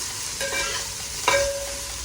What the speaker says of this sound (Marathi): आपण कांद्याला गुलाबी होईपर्यंत परतून घेऊया.